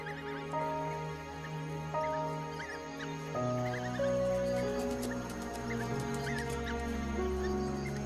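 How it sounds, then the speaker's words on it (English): Pups chirp in high, squeaky bursts at the den, several calls overlapping, heard over sustained musical tones. "The pups make distinct chirping sounds and lick the mouths of the adults."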